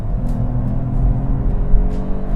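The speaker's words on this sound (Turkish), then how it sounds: "size 60 kilometreden bir Ara hızlanma yapalım" Peugeot 408 car accelerating from 60 km/h, a continuous low engine drone with road rumble inside the cabin, steady and fairly loud with slight swells, no talking over it.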